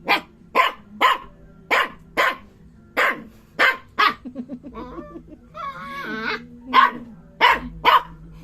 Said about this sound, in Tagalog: Tatahulan niya yung sarili niya.